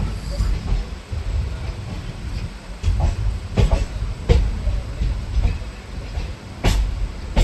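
A train pulls into platform 2 at Kannur railway station: steady wheel rumble with sharp, irregular clanks and knocks from the rail cars, fairly loud and close throughout.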